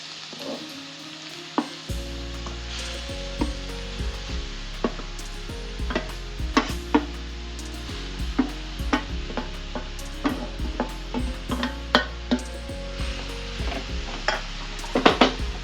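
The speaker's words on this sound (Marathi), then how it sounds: "इथं मी अर्धा किलो गाजर किसून घेतलेले आहेत हे आपण या तुपामध्ये छान फ्राय करून घेऊयात" Half a kilo of grated carrots fries in ghee over a high flame, giving a steady sizzle under repeated clanks and scrapes of a spoon stirring against the pan.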